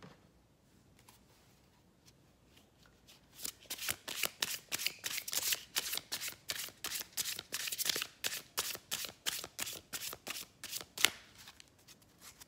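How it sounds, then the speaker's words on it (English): Tarot cards shuffled by hand in steady rapid riffles, starting faintly and growing into a dense run of crisp bursts, close and alone with no talk. "I'm going to go ahead and just keep shuffling"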